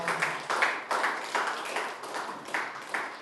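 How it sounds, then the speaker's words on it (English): An audience at an IPOB leadership inauguration gathering in Malaga claps in uneven bursts, moderately distant and fairly soft, with pulses of applause rising and fading. "A round of applause once again"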